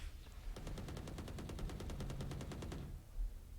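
Rapid automatic gunfire in the tactical shooter Valorant during a school esports match, a steady burst of about twenty evenly spaced shots lasting a couple of seconds before stopping, with no voice over it.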